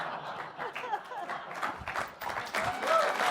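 A studio audience at a late-night talk show applauds and cheers, a moderate spread of clapping that swells toward the end, with scattered whoops and voices mixed in.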